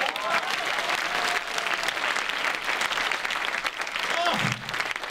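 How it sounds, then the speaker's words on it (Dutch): A church congregation breaks into loud, sustained applause, a thick wash of clapping mixed with crowd noise and scattered voices that carries on steadily throughout. "Geef de Heer eens een applaus."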